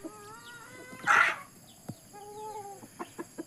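Farmyard chickens, including a very large rooster, clucking and calling nearby with drawn-out tonal cries, one loud squawk, and a few short sharp clucks toward the end.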